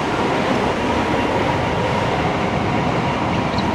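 A sleeper train running between Okayama and Tokyo, heard from inside the carriage as a loud, steady rumble and roar with faint rhythmic rail noise and no voices.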